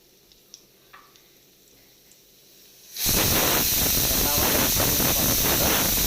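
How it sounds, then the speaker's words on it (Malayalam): After a few quiet seconds with faint taps, curry leaves hit hot oil and set off a sudden loud, sustained sizzle and spitting hiss that stays steady to the end. "ചൂടാകുമ്പോഴത്തേക്ക് അതിനകത്തേക്ക് 1-2 കറിവേപ്പില അങ്ങോട്ട് ഇടാം"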